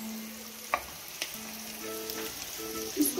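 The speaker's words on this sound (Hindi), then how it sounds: "अब इसमें हम कैप्सिकम डाल देते हैं।" Chopped capsicum sautés in a pan for a homemade veggie pizza, giving a steady soft sizzle and frying hiss with a few light stirring clicks and scrapes.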